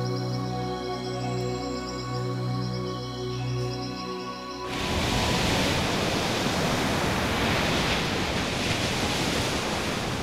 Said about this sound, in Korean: 바람이 많이 부는 해안가